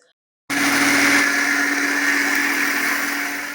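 A mixer grinder whirs loudly and steadily after a brief silence, grinding soaked rice with rinsed thin poha into smooth idli batter, its motor drone continuous and close with no talking.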